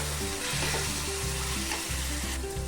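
Spices for prawn malai curry sizzling and frying in a pan while being stirred, a continuous close hiss broken by scraping strokes, with no talking.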